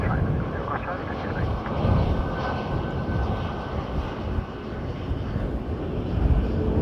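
An airliner lands at Dublin Airport on a windy morning, its jet engines a broad, loud, steady roar that swells slightly, mixed with wind noise.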